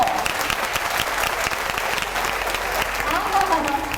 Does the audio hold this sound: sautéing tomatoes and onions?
no